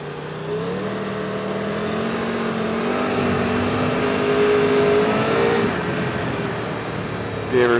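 A Triumph Tiger 1200 GT Pro motorcycle on Mitas Enduro Trail+ tyres accelerates hard, its engine note climbing steadily through the revs under strong wind rush, loud and close, before easing off near the end.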